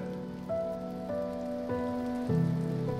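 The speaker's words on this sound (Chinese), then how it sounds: "我真不知道下雨有什么好看的" Steady rain falls in a period drama scene, a soft continuous patter beneath sustained, swelling musical tones, with no voices.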